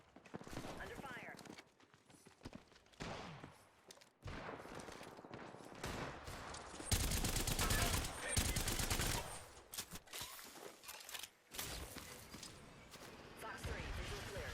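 Rapid gunfire bursts from weapons in Apex Legends, loud and dense through the middle stretch, with a player talking over the shooting throughout.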